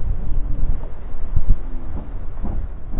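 Strong gusting wind buffets the microphone on an off-road enduro riding outing, a loud continuous low rumble with uneven surges and no talk.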